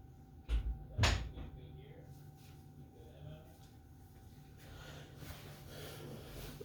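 A bedroom door in a house is checked and shut, with a couple of dull wooden knocks and a firmer thud in quick succession, then quiet room tone.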